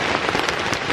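Sudden rain at a riverside fishing camp in Indonesia, a dense steady hiss of drops pattering loudly and continuously with no voices.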